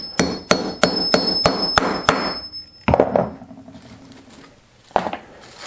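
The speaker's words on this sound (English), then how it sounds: "Now you are going to have to use the hammer for this part too" A hammer strikes a grommet-setting tool on an anvil: seven fast, sharp metallic blows in an even rhythm, then a pause, one more hit with clatter, and a final single strike, close and loud.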